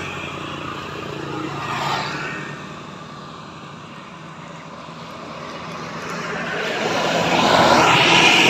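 A new medium-size tour bus from the Rido Mandiri Pariwisata fleet, travelling with a group returning from the Haul Besilam event in Langkat, passes with a broad engine and tyre roar that swells, eases off, then builds again louder close by.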